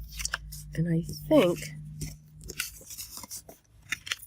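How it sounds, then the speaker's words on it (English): Scissors snip through paper following a template while trimming pages for a handmade journal, a few close crisp cuts with short pauses, and a voice talking briefly over them. "you can just use it as your template and just cut along top of that"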